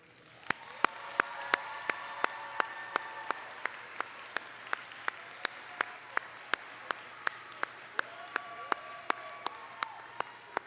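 A graduation audience applauds parents and family mentors, with sustained clapping from a crowd at moderate distance and a few sharp, regular claps standing out near the microphone.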